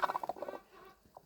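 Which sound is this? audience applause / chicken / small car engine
chicken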